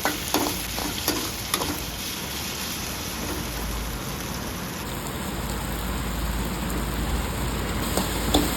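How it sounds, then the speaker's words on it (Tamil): Onion, garlic and tomato with coarse salt sauté in a pan for a broad bean and potato stir-fry, a dense steady sizzle like rain with a few early stirring clicks, close and unbroken by speech. "இப்போ நம்ம வெங்காயம், பூண்டு, தக்காளி, கொஞ்சம் கல் உப்பு சேர்த்துக்கலாங்க. சேர்த்து நல்லா வதங்கட்டுங்க"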